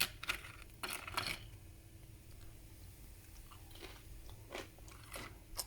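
Crunchy skillet-baked bread bitten and chewed up close, with sharp crackling crunches in bursts at the start and again near the end, quieter chewing between, no talking.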